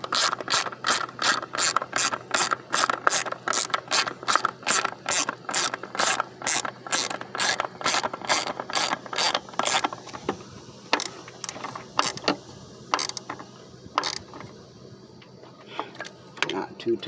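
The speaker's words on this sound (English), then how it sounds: "Just bolting that down." A ratchet tightens an ignition coil bolt on a 2007 PT Cruiser, its pawl clicking in a fast, steady close-up run for about ten seconds, then slowing to sparse, irregular clicks.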